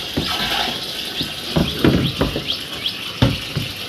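Running water splashes and gurgles from a tap or hose outdoors, fairly close, with irregular sloshing bursts and faint bird chirps in the background.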